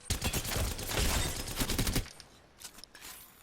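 Rapid automatic gunfire from a weapon in the Apex Legends video game, a loud dense burst of shots for about two seconds, then a few scattered, quieter shots trailing off.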